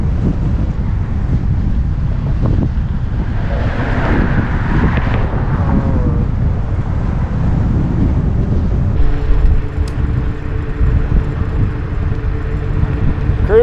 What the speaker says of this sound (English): As you can see it, it's kind of windy.